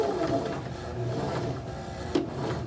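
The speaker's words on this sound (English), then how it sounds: "I'm going to go around, and I'm going to sew over where we began" A sewing machine stitching around a fabric bookmark, running as a steady close mechanical whir with a fine rapid rattle and one brief louder knock near the end.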